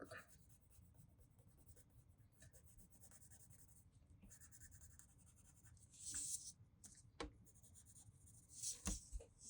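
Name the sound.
pencil drawing and shading an anime eye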